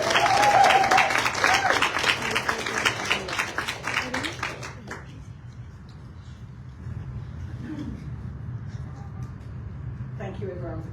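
An audience applauds as a speaker is welcomed to the stage at a Voices of Impact event, with steady clapping and some cheers for about five seconds before it fades to quieter room noise and a few stray claps.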